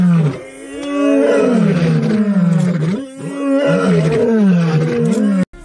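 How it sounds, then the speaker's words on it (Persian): Lion roaring loudly and continuously, a deep, powerful series of drawn-out roars with brief pauses between them, close and alone with no talk. "صدای غرش شیر انقدر بلنده که میتونه به 114 دسیبل برسه و تا فاصله 8 کیلومتری شنیده میشه."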